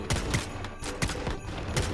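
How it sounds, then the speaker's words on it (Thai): Heavy cannon shots fire in a rapid, repeating rhythm during a boss fight in the video game Once Human, amid constant explosive game action and rumbling noise. "อันนี้คือปืนใหญ่มันแรง มาก"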